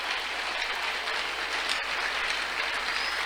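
Church congregation applauding the Lord, a dense, steady wash of clapping from many hands filling the room, continuous and even for the whole moment.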